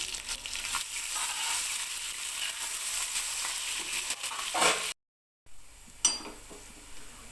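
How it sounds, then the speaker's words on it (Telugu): Two onions frying in a pan, a steady broadband sizzle with occasional stirring scrapes, close and fairly loud, broken by a brief silence and then a sharper clatter. "ఇవన్నీ కొంచెం ఫ్రై అయిన తర్వాత నేను 2 ఆనియన్స్ అయితే ఫ్రై చేసుకున్నాను"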